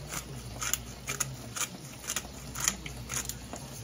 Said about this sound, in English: Some fresh cracked pepper.